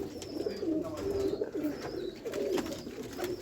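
Sialkoti rooftop pigeons coo in soft, repeated rolling calls, close by and steady, with no talk over them.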